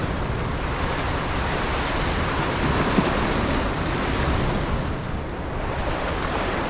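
Loud, steady rush of water and wind at the Kentucky and Barkley Dam with gates open, a dense roar that holds constant throughout with no voices.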